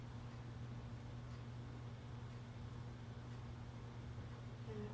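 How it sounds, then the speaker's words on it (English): A household refrigerator hums steadily in a quiet room, a low constant drone with a faint tonal layer sitting under soft background hiss, unchanging and alone for the whole stretch. "Sound of the refrigerator humming."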